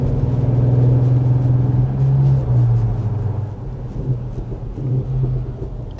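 A 2024 Audi SQ5 exhaust rumbles and burbles at low revs, a loud, steady drone with a few soft crackling pops in the second half.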